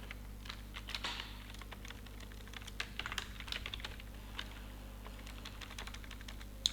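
Keys tapped on a computer keyboard as a phone number is entered, quick uneven clicks in short bursts over a low steady hum, close and faint, no speech.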